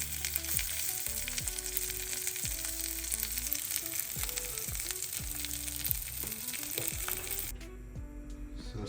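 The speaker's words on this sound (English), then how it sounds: "you let it cook for a bit, and then you have to the other section fried as well." Pomfret fish fries in hot oil with a steady, loud, dense sizzle and crackle that fills the whole stretch and eases slightly near the end.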